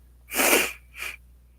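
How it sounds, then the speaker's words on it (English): A single sharp sneeze close by, followed a moment later by a second, softer sneeze or sniffle, with no talking. "Sorry about my sniffles."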